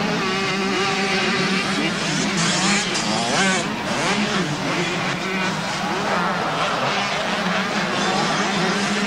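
Motorcycle engines in a 1990 junior race final at Calder Park, a loud continuous buzzing whine of several bikes rising and falling in pitch as they accelerate and shift.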